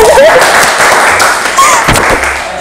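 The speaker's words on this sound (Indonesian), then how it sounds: "Tepuk tangan dong buat dia" Audience applause at an Indonesian talk show, a dense steady wash of clapping with scattered thumps and a brief voice, loud and close throughout, tapering slightly near the end.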